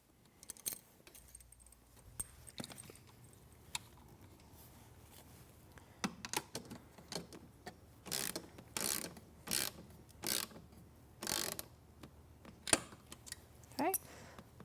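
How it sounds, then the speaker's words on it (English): A hand ratchet tightens a bolt on a metal bracket fitted to a studio reformer with wooden risers, with scattered metallic clicks early on, then a series of evenly spaced, close ratcheting strokes. "I can go back and tighten the bolt we just installed so that this bracket will not move"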